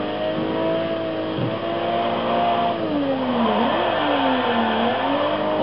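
Nissan Skyline R32 GT-R V-Spec engine in a racing video game, revving high with a steady, loud whine that climbs and dips in pitch over game music, with no talk.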